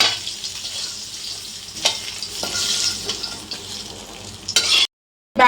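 Pieces of rohu fish frying in hot oil in a pan, a busy, close sizzle with occasional stirring and scraping knocks, then a sudden cut to silence.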